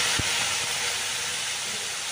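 Water is poured into a hot pan of potatoes and poppy seed paste, setting off a loud, steady sizzling hiss that starts with a quick splash and persists for the short clip.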